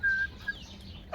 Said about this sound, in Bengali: তারপরে যে এখানে দেশি মুরগি আছে